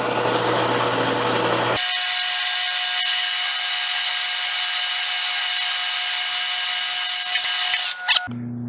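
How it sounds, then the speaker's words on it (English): Quarter-inch end mill cutting stainless steel, a loud steady high-pitched whine with a sustained tonal ring, preceded by a noisy spin-up and ending abruptly. "we are gonna do that with our 1/4-inch end mill"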